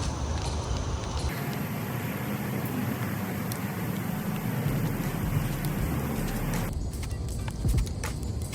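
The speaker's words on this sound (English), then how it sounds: "it started raining out of nowhere" Rain beats steadily on the roof of a parked car, a dense, even patter heard from inside the cabin that stays loud and continuous, with a brief change near the end.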